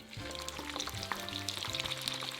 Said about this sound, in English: In a pan over medium heat, add the oil and the belt fish.